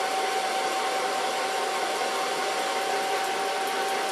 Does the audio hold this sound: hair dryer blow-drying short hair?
yes